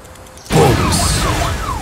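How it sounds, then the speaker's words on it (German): A loud electronic alarm siren suddenly blares after a half-second of quiet, its pitch sweeping up and down repeatedly. "Alarm! Was für ein Lärm."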